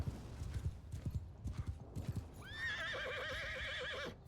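A horse in the video game Mount & Blade 2 Bannerlord, hooves clopping in a quick run before a loud, drawn-out whinny rises and wavers close by, with no speech.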